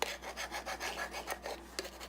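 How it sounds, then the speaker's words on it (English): A squeegee rubs down a Cricut vinyl monogram in steady back-and-forth rasping strokes, about a dozen passes, close and fairly quiet, with no voices. "you can take your squeegee and just rub it down"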